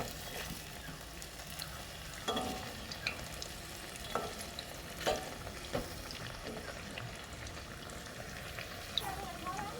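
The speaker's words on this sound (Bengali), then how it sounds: "এরকম উল্টে পাল্টে কিন্তু ভেজে নেব" Oil sizzles steadily around frying okra and potato chops, with occasional sharper crackles and pops standing out from the continuous hiss.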